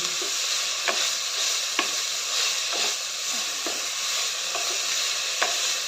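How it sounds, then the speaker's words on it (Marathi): Carrot, onion, tomato and cashews sautéing in a pan give a steady close sizzle, with a spoon scraping and stirring through it every second or so. No one speaks. "सर्व चांगलं परतून घेऊया गाजर कांदा टोमॅटो काजू"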